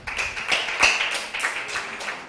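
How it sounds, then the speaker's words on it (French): Audience clapping at a university structured debate championship, a scattered round of hand claps from a moderate-sized crowd, steady for a couple of seconds without voices. "merci d'applaudir"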